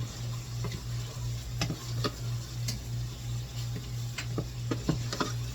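Celery and other vegetables sauteing in a pan over medium-high heat for seafood newburg, a soft steady sizzle under a low hum, with light irregular ticks and taps of utensils on the pan.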